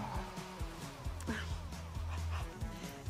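A dog yips, barks and whimpers in a scene from a TV series, short excited cries layered over a busy soundtrack with voices nearby.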